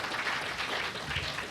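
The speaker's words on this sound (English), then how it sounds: "Round of applause for our sponsors." A crowd at a game-design talk gives a short round of applause for the event sponsors, a soft continuous patter of clapping with no voices.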